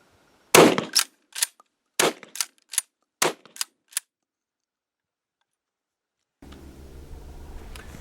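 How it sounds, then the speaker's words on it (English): A Hatsan Slugger Aimguard 12 gauge shotgun fires a string of sharp, loud shots, first one report then quick groups of two and three, each followed by a short mechanical clack, before a steady low rumble takes over. "And let's get some rounds down range."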